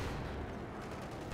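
A Panther tank in Company of Heroes 2 fires and misses, giving a dense, steady rumble of distant gunfire and battle noise with no clear single shot standing out.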